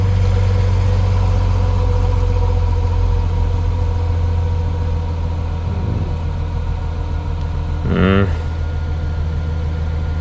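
A BMW 760 Li engine runs steadily after restoration of its high-pressure fuel pumps, a loud, close, continuous idle with a brief mechanical clunk partway through and no talking.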